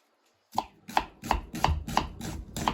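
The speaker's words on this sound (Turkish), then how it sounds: "Öncelikle soğanlarımızı doğrayarak başlıyoruz." Steady knife chopping onions on a board, about seven sharp evenly spaced cuts after a brief silence, close and clear with no talking.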